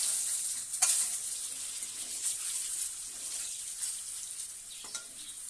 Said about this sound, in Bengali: আমি ডিমগুলোকে সিদ্ধ করে নিয়েছিলাম, এবার এগুলোকে ভেজে নেব।